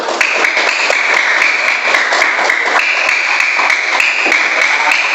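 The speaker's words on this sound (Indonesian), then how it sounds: "tepuk tangan untuk kelompok anggur" Classroom applause for a student group, a dense steady patter of many children's hands clapping close by, loud and continuous with a few sharper claps standing out.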